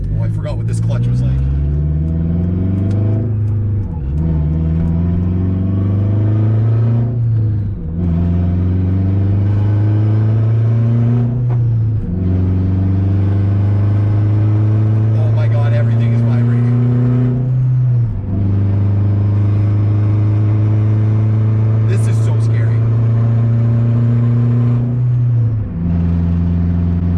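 A turbocharged eighth-generation Honda Civic with a manual clutch accelerates through the gears on a highway, its engine droning and rising in pitch with each gear, then dropping at the shifts, loud and steady throughout.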